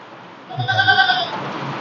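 A goat bleats once, a wavering nasal call standing alone in a quiet outdoor setting.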